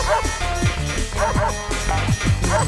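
A dog barking while it chases the player in New Super Mario Bros. Wii, heard as repeated close, loud bow-wows and yips in a steady rhythm over game music.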